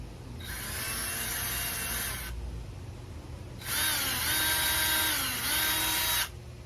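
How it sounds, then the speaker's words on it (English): A power drill whirs in two sustained bursts while fitting solar fence lights, the second longer and wavering in pitch as it bites into the material. "I'm going to just drill it out a little bit"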